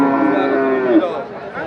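A cow at a busy cattle market lows once, a loud, close, drawn-out moo that rises and bends in pitch before trailing off amid faint background noise.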